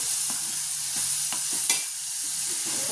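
Ridge gourd and soaked moong dal sauté in a hot pan, giving a steady sizzle with rhythmic spoon-stirring taps, close and alone without speech.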